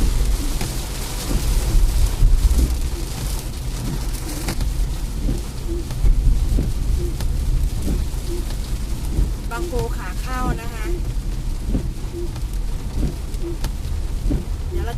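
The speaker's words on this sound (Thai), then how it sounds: "ฝนตกเยอะเลยค่ะ" Heavy rain drums on a car during a daytime drive along Sukhumvit Road near Bang Pu, Samut Prakan, a dense steady wash with low road rumble and faint voices and music underneath.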